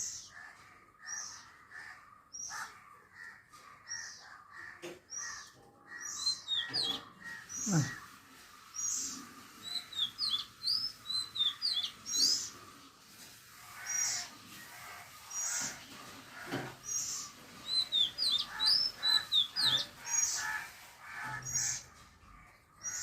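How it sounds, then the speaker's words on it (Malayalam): A mother bird perches in a small jackfruit tree near its nest and calls repeatedly in short, high, chirping bursts, moderately close, with no talking over it. "കണ്ട വന്നിരുന്ന് വിളിക്കുന്നു കള്ളക്കിളി"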